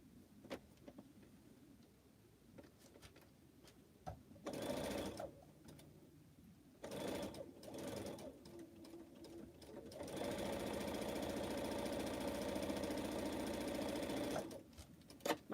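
A flatbed sewing machine piecing pineapple quilt blocks runs close by in several stitching bursts, the last one long and steady, with quiet handling clicks between them.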